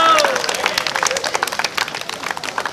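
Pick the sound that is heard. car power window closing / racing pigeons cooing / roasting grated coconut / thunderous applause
thunderous applause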